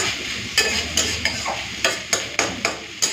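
Banana stem and shrimp being stirred in a pan, a sizzling bed under a regular series of sharp spatula scrapes and taps against the metal, roughly two per second.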